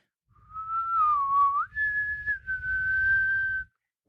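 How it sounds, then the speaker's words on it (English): A clear, sustained whistled tune, wavering pitch then rising and holding, over a low rumbling background; lone and moderately loud, about three seconds long. The whistle of El Silbón from Latin American folklore. "if you hear a distant whistle"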